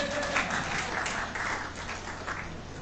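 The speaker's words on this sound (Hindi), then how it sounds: "तालियां बजाओ" Crowd at a Hindi political speech clapping steadily, a dense, even wash of many hands sustained for about three seconds, moderately loud with no voices over it.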